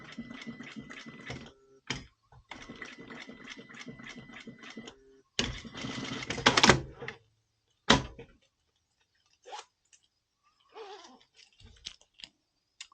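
Sewing machine stitching the ends of a waterproof softshell jacket lining, several short mechanical bursts of stitching separated by pauses, followed by sharper clicks and handling noises, fairly quiet and close.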